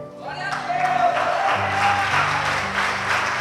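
A church congregation applauds in a dense, continuous wash of clapping that rises quickly and holds steady, with a voice faintly audible over it.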